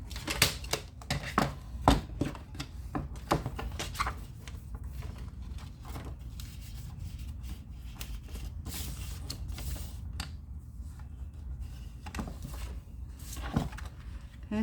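A straw box is cut down for an Easter journal with a series of irregular crisp cuts, snips and handling clatters close by, scattered over a low background hum.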